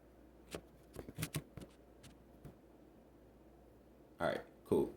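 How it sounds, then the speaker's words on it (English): Tarot cards being shuffled by hand, several soft riffling bursts, close and quiet, with two louder shuffles at the end and no speech over them. "I'm gonna shuffle them again."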